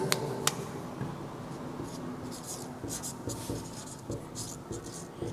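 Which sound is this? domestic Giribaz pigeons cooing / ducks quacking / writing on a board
writing on a board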